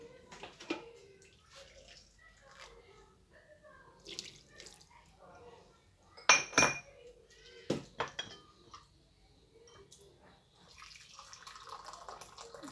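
Water poured into a pot of Moroccan maqluba, splashing and running in uneven bursts with clinks of the cookware.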